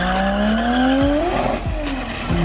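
Drag race cars, one a Nissan, accelerate hard, engine pitch climbing steadily in loud sweeping tones with a brief tire squeal, heard up close with no talk.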